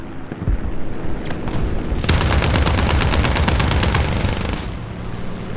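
Aircraft cannon fire in War Thunder air arcade combat aboard an A7He1 fighter, a loud, rapid sustained burst of shots with engine drone beneath, preceded by a few short shots.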